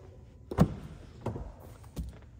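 The door of a 2020 Audi SQ2 Vorsprung 2.0 Quattro is handled up close: a sharp unlatching click followed by two softer thuds and clicks, spaced about two-thirds of a second apart in a quiet setting.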